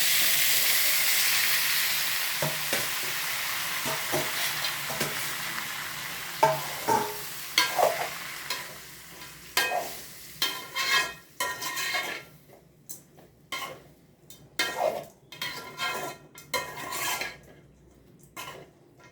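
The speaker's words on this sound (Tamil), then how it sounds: "நல்லா கிளறி விட்டுட்டு ஒரு பிடி இன்னும் கூட போடணும்." Pieces of citron frying in hot oil: a loud, hissing sizzle at first that settles, followed by a long series of sharp spoon-against-pan scrapes and knocks as the pieces are stirred close up.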